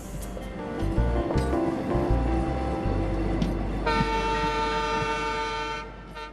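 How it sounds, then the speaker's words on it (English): The Maharajas' Express luxury train pulls away, its horn sounding in long sustained tones over a low rumble of rolling carriages, loud and close, with no talking. "I got back on the train just in time for lunch as it chugged off to the next destination."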